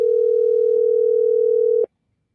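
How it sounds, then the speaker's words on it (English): On an outgoing phone call, a steady electronic ringback tone holds loud and even for nearly two seconds, then cuts off abruptly into silence. "we can hear the phone ringing right now"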